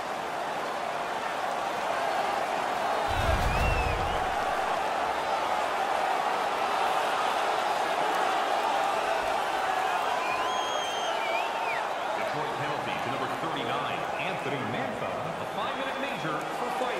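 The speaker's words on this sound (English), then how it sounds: "The crowd is so pumped right now" Hockey arena crowd roaring after the Buffalo Sabres win a fight against the Detroit Red Wings, a steady wall of cheering and shouting throughout with a deep thud near the start and commentary running over it.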